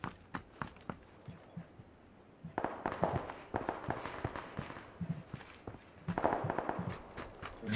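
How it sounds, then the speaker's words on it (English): Gunfire in the battle royale game PUBG comes as many sharp, fairly distant cracks, some scattered and some in quick clusters, repeating throughout. "So many shots."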